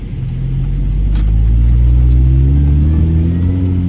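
A supercharged hot hatch car engine drones and rises steadily in pitch as it accelerates around 60 mph on a single-lane road, loud and close with a deep rumbling tone throughout.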